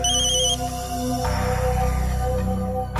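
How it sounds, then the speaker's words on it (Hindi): A phone rings with an incoming call, a steady repeating electronic ringtone that carries loudly and clearly through the whole stretch, with no one speaking over it. "ये लो तारिका का फोन।"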